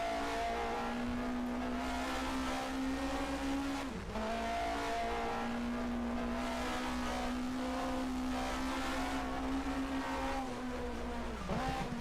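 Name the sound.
race car engine downshifting for a hairpin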